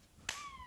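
A single sharp hand clap, fairly close and crisp, meant to set off a Petster robot cat toy, followed by a quiet ringing tail in an otherwise hushed room.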